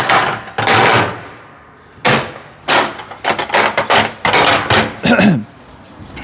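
The metal doors of a livestock transport trailer are swung shut, giving a run of loud, close clanks and bangs in uneven bursts with short pauses between them.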